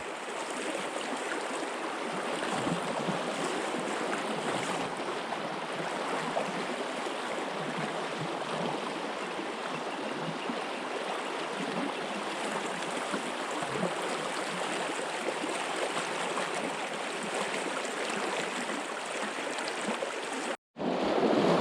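Fast, shallow water rushes through Yellow Breeches Creek in Cumberland County, Pennsylvania, a steady, close, broadband wash that runs unbroken and loud, with no talk, until a brief dropout near the end.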